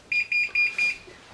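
An oven timer buzzer goes off in a home kitchen during pizza baking, sounding four short, evenly spaced high beeps, loud and close with no voices.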